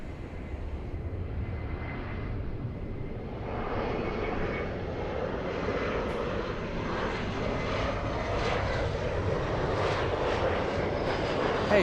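An Air France airliner taxis toward the runway for takeoff at Los Angeles airport, its engines giving a continuous moderate whine and rumble that builds gently, heard alone without speech.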